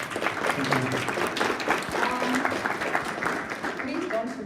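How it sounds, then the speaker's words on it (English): An audience at a game developer conference talk breaks into sustained applause after a lecture, a dense steady clapping that lasts a few seconds from a mid-sized crowd. "So let's give a round of applause."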